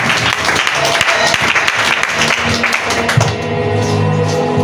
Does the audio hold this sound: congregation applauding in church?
yes